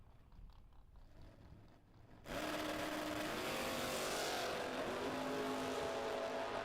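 A Camaro drag car launches hard down the strip at a bracket racing event, bursting from a low idle into a loud, sustained roaring engine that holds steady as the car pulls away.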